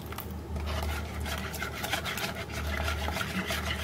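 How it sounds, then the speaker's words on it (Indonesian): A spoon or whisk stirs dorayaki batter in a bowl as water is added, giving a steady, continuous scraping and sloshing rub close up, with no talk. "kemudian aduk rata ya"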